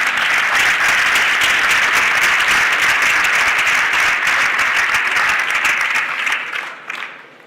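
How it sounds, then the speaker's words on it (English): A large audience at a startup awards ceremony on a bank-sponsored innovation stage bursts into dense, sustained applause that holds steady for several seconds before thinning and fading at the end. "A warm applause for them."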